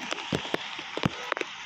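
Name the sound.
heavy rain falling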